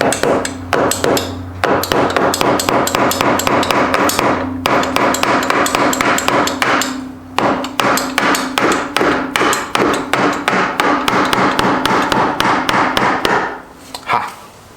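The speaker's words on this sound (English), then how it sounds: "So a little bit of persuasion with a mallet" Repeated loud, close mallet blows strike a stuck part on a 1996 Honda Fourtrax 4x4 ATV during an overhaul, falling in steady rhythmic bursts with short pauses between runs.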